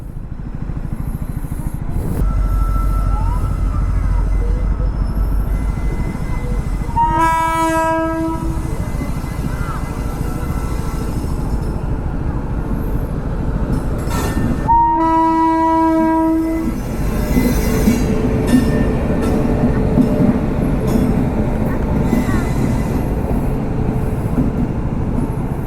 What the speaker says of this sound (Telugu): రివర్స్ గేర్ వేసాడు ట్రైన్.